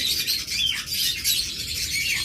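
Many caged birds at a bird shop keeping up a busy chorus of high chirps and tweets, close and lively, overlapping without a break and with no talking heard.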